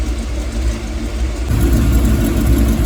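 A buggy's loud, steady engine idle rumbles close by in a garage, stepping up slightly in pitch and volume partway through.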